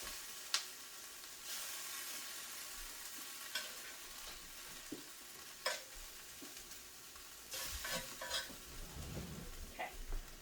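A spoon stirs cube steak ingredients in a frying pan, a soft continuous sizzle broken by several scraping, clinking strokes against the pan, close and fairly quiet with no talking.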